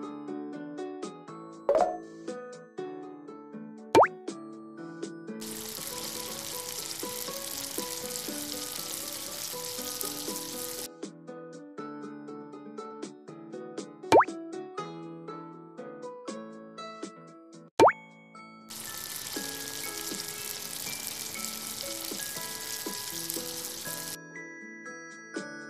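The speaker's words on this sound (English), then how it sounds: "Now, fry it." Food frying in a fast food restaurant cooking video game, two long stretches of steady bright sizzling set against cheerful looping background music with occasional sharp click effects.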